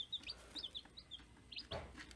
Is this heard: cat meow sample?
no